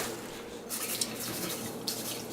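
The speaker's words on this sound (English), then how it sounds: "What I will do is rinse off my mung beans" Tap water runs steadily into a sink as mung beans are rinsed, a continuous splashing hiss with a couple of brighter spatters.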